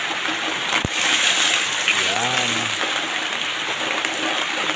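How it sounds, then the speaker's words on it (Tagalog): Steady heavy typhoon rain hisses continuously, with a brief thump and a short spoken word partway through. "Lakas ng ulan"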